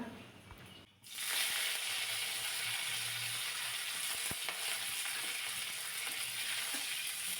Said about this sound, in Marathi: कढीपत्तासुद्धा तेलामध्ये चांगला कडून द्यायचा आहे